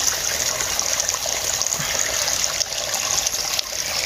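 Spring water trickles and gushes from among rocks at the source of a river, a close, steady, full rushing and babbling that fills the whole clip.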